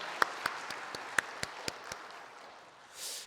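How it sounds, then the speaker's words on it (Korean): Church congregation clapping in praise during a Korean Sunday service, a handful of sharp, separate claps ringing out briefly and then fading into room quiet. "우리 감사의 하나님 박수로 하나님께 한번 영광 돌리겠습니다"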